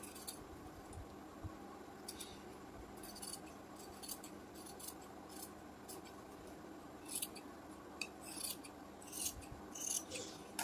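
Scissors snip through boat neck blouse fabric during princess cut blouse cutting, a faint series of soft, irregular crisp cuts and rasps over a low steady hum, with no talking.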